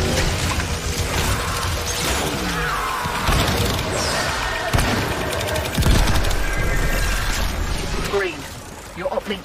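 A video game firefight erupts while the Condrix is shot at, with dense bursts of gunfire, crashes and shattering over a busy, loud mix in which voices speak.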